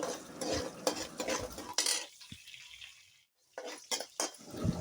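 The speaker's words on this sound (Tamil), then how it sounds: "சின்ன வெங்காயம் போட்டு அப்படியே பரட்டி விடலாம்." Small shallots fried in a pan with fenugreek seeds, stirred with a spoon that scrapes and clinks against the metal in irregular bursts over a light sizzle, with a brief quiet gap midway; close and fairly soft, no talk.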